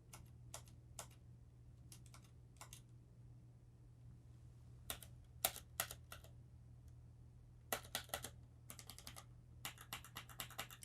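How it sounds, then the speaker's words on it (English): Close-up keys click on a sturdy computer keyboard in quick, scattered bursts of sharp taps with pauses between them, quiet and alone in an otherwise still room with a low hum. "Just give you another little close-up over here of me actually clicking on the keys."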